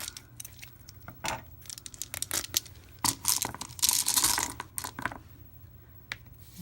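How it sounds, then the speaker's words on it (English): A plastic bag of glass beads and magnetic business card parts is opened with sharp crinkling and tearing rustles, intermittent handling noises clustered in bursts, fairly close and clear with no talk. "You will open up the bag."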